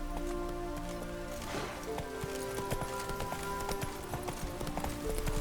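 A horse galloping in the video game The Witcher 3, with a steady rapid clip-clop of hooves close up over an ambient game music bed, with no talk.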